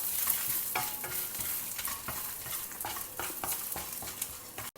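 Urad dal, chana dal and dry red chillies sauté together in a hot pan. A steady sizzle hisses throughout, broken by repeated scraping strokes of a spoon stirring them.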